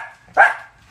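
A single short dog bark rings out nearby, loud and alone, rising sharply and fading within half a second against a quiet background.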